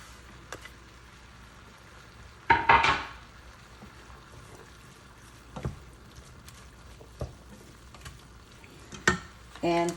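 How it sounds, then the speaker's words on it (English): Ground beef browning in a pan with green peppers added, heard as a low, quiet sizzle with occasional stirring scrapes and clunks of a utensil against the pan. "So I'm browning the ground beef right now, and while that's happening, I am going to add my green peppers."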